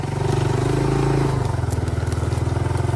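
Yamaha YTM200 three-wheeler on a trail ride, its small engine chugging close by with a rapid regular putter that shifts pitch midway, plus light clatter.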